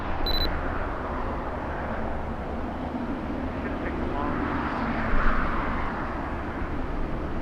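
A Virgin Atlantic heavy jet takes off at LAX, a broad distant engine roar swelling slightly mid-way, with a brief high electronic beep at the start.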